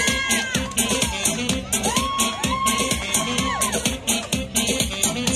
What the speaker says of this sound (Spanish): Venga el aplauso que se escuche para Sacha Isabel Fultón Escobedo.